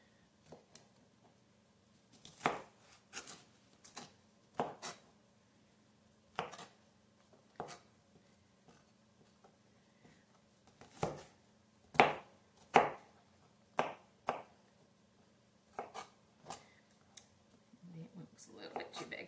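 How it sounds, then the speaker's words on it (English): A knife dices vegetables on a cutting board for shrimp creole, sharp irregular chops in short bursts separated by pauses, fairly close and clear over near silence. "Turn them all sideways, line them up like little matchsticks. And then we're going to cut down into dices."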